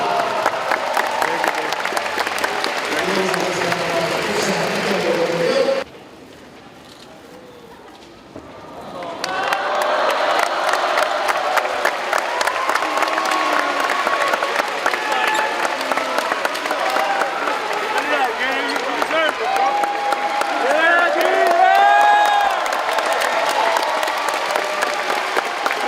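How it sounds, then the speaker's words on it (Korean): An arena crowd at a professional basketball game against Seoul Samsung claps and cheers loudly. The roar dips briefly to a quieter lull, then swells back into sustained applause and whoops, with a voice speaking over the noise. "여러분 박수를 부탁드립니다."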